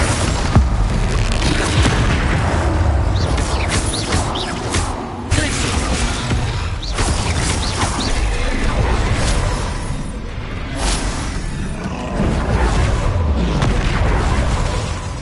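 Confringo blasting spells from the Hogwarts Legacy video game set off loud, dense explosions and booms, one after another, with whooshes and crashes across the whole stretch. A voice is heard in places.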